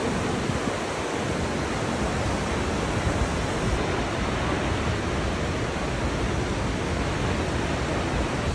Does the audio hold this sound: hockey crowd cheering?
no